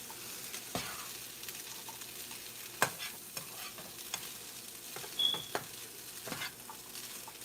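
Ground beef cooking in a skillet gives a soft, steady sizzle broken by scattered scrapes and taps as it is stirred, quiet and close, with no one talking.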